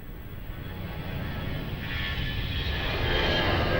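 A passenger airliner takes off from runway 02 at Lisbon Airport, its engine roar building steadily from a moderate rumble to a louder, fuller hiss and drone as the jet accelerates, with no talk over it.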